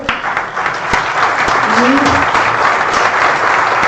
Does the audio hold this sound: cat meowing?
no